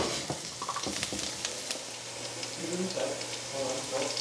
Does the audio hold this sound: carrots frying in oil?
yes